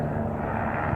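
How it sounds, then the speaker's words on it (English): A blue and gray patrol helicopter passes directly overhead in the afternoon, a loud, steady droning engine roar with no pause for the full second and no voices. "That's the helicopter,"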